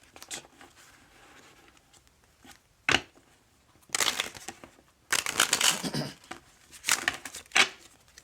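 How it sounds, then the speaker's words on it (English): A large deck of tarot cards being shuffled clumsily by hand, irregular bursts of papery riffling and slapping separated by quiet pauses, close and alone without speech. "Goodness, I cannot shuffle today."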